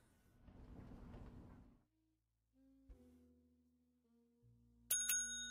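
A bell rings in the hotel game Hotel Business Simulator, a short bright chime at the end after some soft rustles and thuds.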